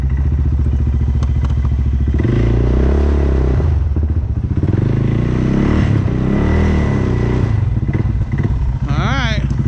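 A rough, loud CFMOTO CForce 600 ATV engine idles steadily throughout in extreme cold, with clattering thumps in the middle and a brief higher whine near the end.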